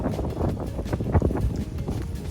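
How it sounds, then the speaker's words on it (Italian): Strong wind blowing through a beech forest, gusty low rumbling buffets against the microphone that stay loud and continuous the whole time, with no one speaking. "un vento da matti"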